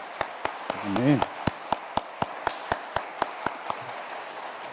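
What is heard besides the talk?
church congregation applause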